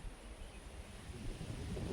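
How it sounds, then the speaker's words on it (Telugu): Faint, steady pre-rain wind blowing in the Araku forest with a low rumbling buffet on the microphone that grows slightly toward the end; no speech. "గాలి కూడా వేస్తుంది."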